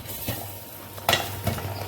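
Seeds crackle in a hot pan during home cooking, a few sharp pops standing out at irregular moments over a faint sizzling hiss, close and fairly quiet.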